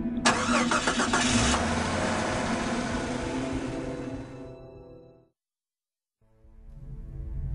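A truck engine cranks and roars to life loudly in a wartime radio drama scene, running steadily before cutting out, then a second engine sound fades back in.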